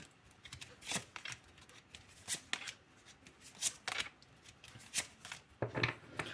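Tarot-style playing cards being shuffled for a card reading, a run of crisp riffling bursts repeating every second or so, close and quiet.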